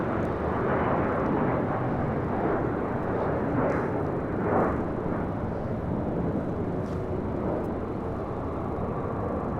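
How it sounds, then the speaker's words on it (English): An American Airlines Dreamliner departs the south side of LAX bound for Tokyo Haneda, its jet engines a loud, steady broadband roar that holds throughout without any speech. "Next departure here on the south side is an American Dreamliner heading to Tokyo Haneda, Flight 27."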